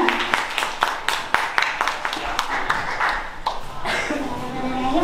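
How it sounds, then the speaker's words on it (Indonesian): Students in a school Q&A session clapping, sharp individual claps in a quick rhythm that thin out toward the end, with voices rising underneath. "Ya, kasih tepuk tangan lagi dong"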